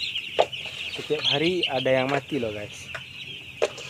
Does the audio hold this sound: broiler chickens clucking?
yes